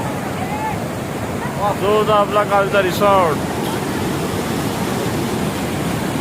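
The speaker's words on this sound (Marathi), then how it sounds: "हा है आपला धबधबा." Steady rushing roar of a waterfall at a monsoon picnic spot, broad and continuous, close, with a person talking briefly over it midway.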